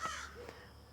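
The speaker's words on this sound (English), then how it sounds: "when they get up there and they call and response" Crows give a couple of harsh caws from somewhere overhead in a backyard garden meadow, faint and brief against quiet outdoor air, with a short call near the start and another toward the middle.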